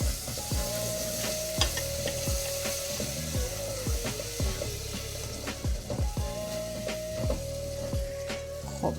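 Tomato paste for a plum and quince stew sizzles steadily in a hot pan while a utensil scrapes and taps the bottom in repeated strokes, with a faint hum underneath.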